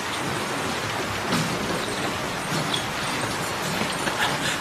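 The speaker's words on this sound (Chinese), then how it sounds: "下雨了。" Rain falls steadily on a town street, a dense even hiss of drops with no talking.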